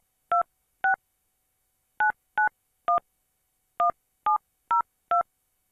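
Telephone keypad DTMF dialing tones, nine short dual-tone beeps in irregular groups of two, three and four, clean and fairly loud with silence between them and no talk.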